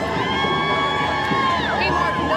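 A protest crowd in downtown Dallas cheers and shouts steadily at a distance as cars drive past during a 'No Kings' rally, with a continuous roar of voices and some rising whoops near the end.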